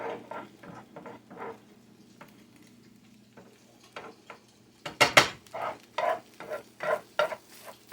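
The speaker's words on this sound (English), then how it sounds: "now I'm going to just go around the edges, get all my eggs off the sides, mix it in with the eggs." A utensil scrapes and stirs scrambled eggs around the sides of a pan in short, irregular strokes, quiet at first and then louder, closer scrapes in a quick run.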